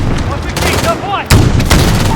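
Gunfire erupts in a Call of Duty Warzone mission, with sharp close shots and a heavier blast about halfway through, under a tense battlefield bed where a voice calls out.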